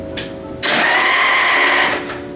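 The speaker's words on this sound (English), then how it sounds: "Crank it over, Luke." A 1995 Jeep Wrangler YJ engine cranks over on the starter, a loud steady whirring grind lasting more than a second, close up, with a brief click and fade at the end.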